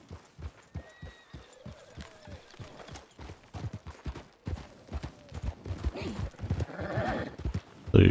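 Horse hooves clip-clopping in the Red Dead Online video game, a rhythmic series of clear hoofbeats growing busier and louder toward the end, with a brief whinny-like sound mixed in.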